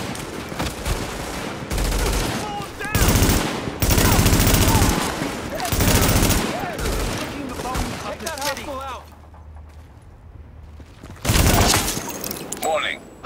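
Automatic and single gunshots in a street firefight in The Division, with dense rapid bursts and loud volleys, a brief lull, then another heavy burst, mixed with shouting voices.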